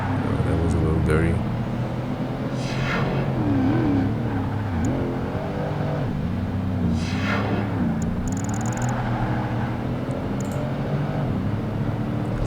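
A Honda Integra races in Project Gotham Racing 2, its engine droning and revving up and down continuously with the occasional tire squeal, while someone talks over the race.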